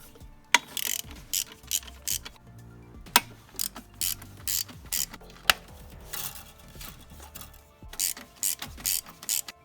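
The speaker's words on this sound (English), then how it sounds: "Socket with an extension works perfect." A ratchet with a socket extension works loose 14mm bolts while an alternator, A/C compressor and power steering unit are pulled, giving close, loud bursts of pawl clicking in repeated short strokes separated by brief pauses.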